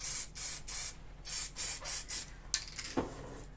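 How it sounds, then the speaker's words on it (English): Short bursts of aerosol spray paint hiss in a quick series of presses, layering colour onto a scale-model forest floor, followed by a faint rubbing or rattling sound. "bit of layering spray on that"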